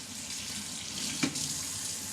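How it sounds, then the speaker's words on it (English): Cold tap water runs steadily from a faucet over boiled eggs in a sink, a close, continuous hiss and splash with a brief thicker gush partway through. "I'll turn on a little cold water, and I'll run them under the water"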